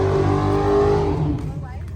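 A car engine at a car meet revs loudly nearby, holding a harsh sustained roar before dropping off abruptly, with a brief rasp that could be tire noise.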